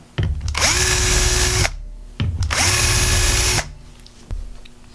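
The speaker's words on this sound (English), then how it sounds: "Show that demonstration one more time, how easy it is to nice and perfectly drill 2 holes." A power drill fitted with a self-centering drill bit bores two holes, each a sustained high whine of about a second and a half separated by a short pause, loud and close, with the motor briefly spinning up again at the end.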